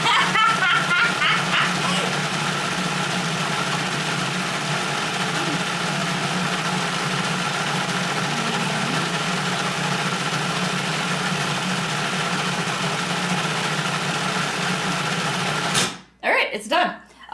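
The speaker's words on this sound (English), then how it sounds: "Vitamix is really great for blending, like, lots of, like, a high volume of stuffing" A Vitamix blender churns cashew curry paste in a steady, loud, continuous whir for about sixteen seconds, then cuts off abruptly into near silence with brief faint rustles.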